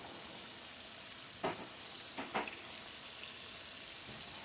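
Boneless country style ribs fry in a pan with a steady close sizzle throughout, broken by a few brief scraping or shifting sounds near the middle.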